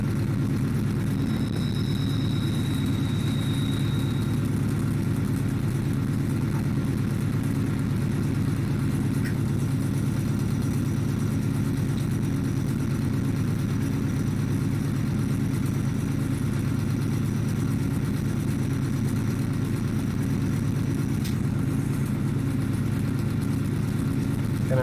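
A GE AC4400 diesel locomotive engine runs steadily in a train simulator game, a continuous low droning rumble with a constant throbbing hum, loud and unbroken throughout with no talking.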